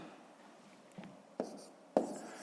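A pen or pencil writes numbers on paper while a fifth-grade math exercise is worked out. The quiet scratching is punctuated by three soft taps that grow firmer.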